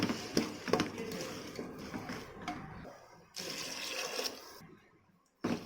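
Water is poured from close by onto soaked rice in a home kitchen while making biryani, giving a splashing, running gush that stops and restarts, with voices around it.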